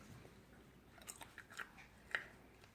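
Crisp crunching and chewing of an air-fried potato piece from a GoWise air fryer, close to the ear, with a few distinct crunchy bites spread over a quiet background.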